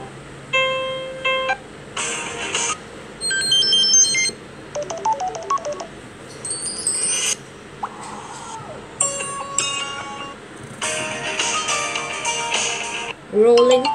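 Samsung Galaxy S7 ringtone Rolling Tone, bright synthetic chiming tones in short melodic bursts that start and stop repeatedly, played loudly from a phone speaker with brief gaps between phrases.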